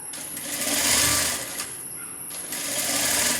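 A sewing machine stitches the lining of a layered gathered maxi dress, a steady close-up mechanical whir running continuously with a brief slowdown in the middle before picking back up.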